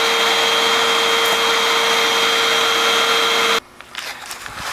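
A Hoover WindTunnel vacuum cleaner with a suction fault runs loud and steady, a constant motor whine with a strong fixed tone, then cuts off abruptly after a few seconds into quieter handling noise.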